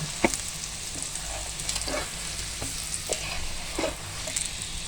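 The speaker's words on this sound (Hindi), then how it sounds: "ये देखें ज़बरदस्त हमारा आलू का पराठा तैयार हो रहा है" A potato-stuffed aloo paratha fries in ghee in a pan with a loud, steady sizzle and scattered sharper crackles and taps, and no voices.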